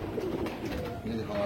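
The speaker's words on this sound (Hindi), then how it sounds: "ये कबूतर देखें" Soft pigeon cooing, a low throaty warble close by, over faint background murmur.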